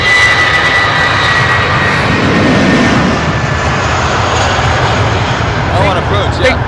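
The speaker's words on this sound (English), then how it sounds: "I think that's an ATR on approach" ATR turboprop airliner on approach at Heathrow, a loud steady engine drone holding throughout with a faint propeller whine, as people chat nearby over it.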